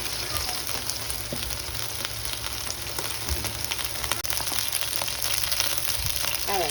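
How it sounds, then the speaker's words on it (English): Chicken pieces fry in a pan, giving a steady dense sizzle with scattered sharp pops throughout, close and fairly loud, with no talking. "alright, it's sizzling and popping. It ain't stopping."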